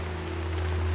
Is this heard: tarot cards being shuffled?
no